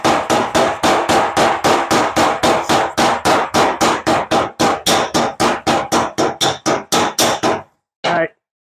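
Rapid, even hammer taps ring out close by as a bike wheel part is worked in on a metal table, about thirty sharp strikes in steady rhythm before a short pause and one last tap.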